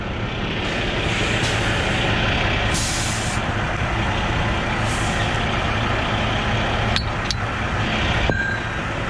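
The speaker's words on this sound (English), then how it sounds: "Set your brakes." A heavy Volvo truck stuck on a curb during a recovery job idles loudly with a steady diesel rumble, while sharp bursts of air hiss from its brakes cut through near the end.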